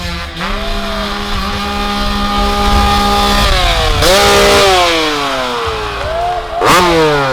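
A KTM 300 two-stroke dirt bike racing in a desert grand prix at Lake Havasu, its high-pitched engine loud and near, revving and shifting with rising and falling pitch throughout.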